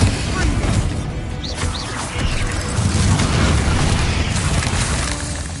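Booming blasts from the Bombarda explosion spell in Hogwarts Legacy, loud and rumbling with crashing debris, mixed with other spell noise and some speech.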